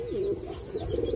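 A tournament racing pigeon coos nearby, a low throaty warble that rises and falls, close and clear with no speech.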